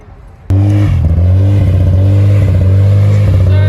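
A truck engine at a Bay Area car meet suddenly bursts into a loud, aggressive rev after a brief quiet moment, then holds a roaring, fluctuating snarl close by.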